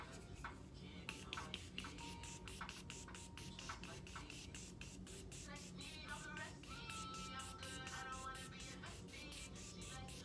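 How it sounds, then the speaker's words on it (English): Makeup setting spray is pumped in a quick series of short sharp spritzes, a rapid rhythmic run of airy bursts close to the microphone, with faint music underneath. "Then we're gonna spray it."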